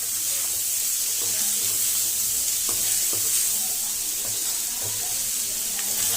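Chopped tomato fries in a pan for chicken keema curry, giving a steady, loud, bright sizzle with occasional stirring scrapes underneath.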